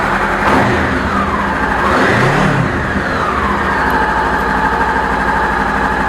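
A Honda CBR500R motorcycle engine catches and settles into a loud, steady idle close by, with a brief rise in revs just after starting before holding an even drone.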